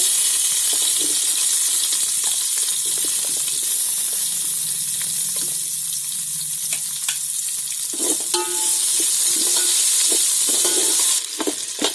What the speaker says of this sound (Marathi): आता त्याच्यामध्ये कांदा टाकते